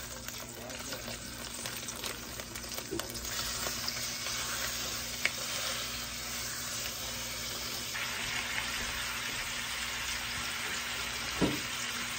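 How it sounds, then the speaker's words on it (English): Chicken frying in hot bacon grease, a quiet continuous crackling sizzle with a few faint pops and clinks from the pan. "I use bacon grease even when I'm just frying regular chicken."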